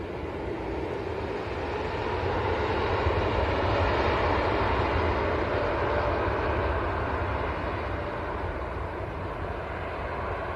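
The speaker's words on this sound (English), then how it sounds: "Here we go then. TUI Dreamliner." A TUI Boeing 787 Dreamliner airliner at Manchester Airport gives a loud, steady roar of jet engines that swells slightly and then holds for several seconds, with no voices heard.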